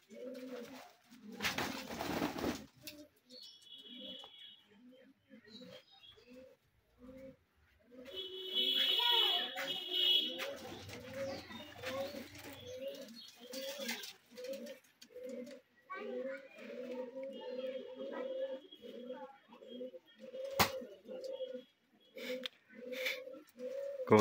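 Pigeons coo in soft repeated rhythmic bursts close by, with children's voices and talk over them and occasional sharper bird calls.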